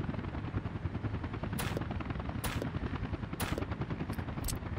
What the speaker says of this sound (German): Oh, der Heli nervt sowas von ab.